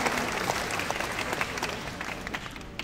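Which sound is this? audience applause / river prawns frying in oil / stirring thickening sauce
audience applause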